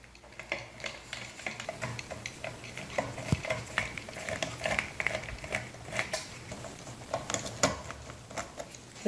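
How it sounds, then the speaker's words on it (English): Small screws being backed out of the fixture under a ceiling fan's light cover, on a fan that hums and runs only on low speed: close, irregular metallic ticks and scrapes repeat steadily throughout, with no talking. "Now we want to back out these 3 screws here a little bit."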